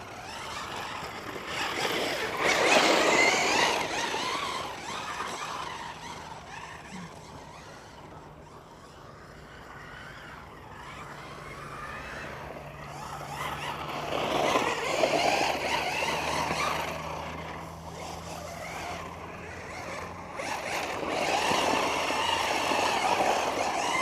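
Losi Super Baja Rey 6S RC truck running, a steady electric motor whine with surging passes that rise and fade at mid distance, no talking.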